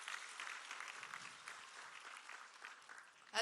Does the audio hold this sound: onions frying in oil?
no